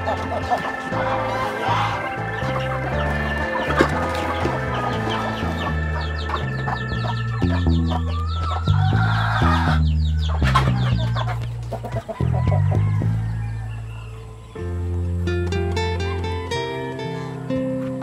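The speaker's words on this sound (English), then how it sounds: "So we will go inside the chicken coop and we will feed our chickens." Chickens cluck and squawk in an elevated bamboo coop as they are fed, with a rooster-like crow among them. Several birds sound close and loud, calling in overlapping bursts throughout.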